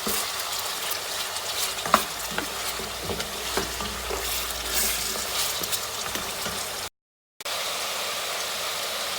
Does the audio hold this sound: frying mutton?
yes